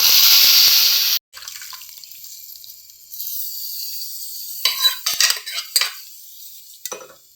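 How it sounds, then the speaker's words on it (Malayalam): Curd is poured into a pan of sizzling onion, curry leaves and dried red chillies, starting with a loud hiss that cuts off abruptly, then a quieter stretch with bursts of clattering stirring and utensil knocks. "ഇതിലേക്ക് ഒഴിച്ചു കൊടുക്കുക കേട്ടോ തൈര്"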